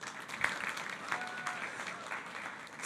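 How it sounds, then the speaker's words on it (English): A room applauds the Maolac team at a startup demo day, the clapping fairly quiet and distant, with a few sharper claps standing out. "Give them an applause"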